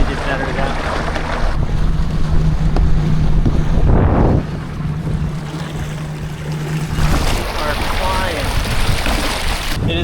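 An electric dinghy with a trolling motor powered by a LiTime LiFePO4 battery moves across open water, its low steady motor hum buried under loud wind buffeting the microphone and splashing water.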